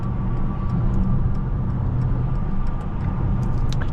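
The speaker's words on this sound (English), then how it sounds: "It's nothing quite like the sound of a twin turbo V8." The twin-turbo V8 of a 2021 Mercedes-AMG GLE 63 S, over 600 horsepower, drones steadily from inside the cabin, a dense low rumble with faint ticking on top, no talk.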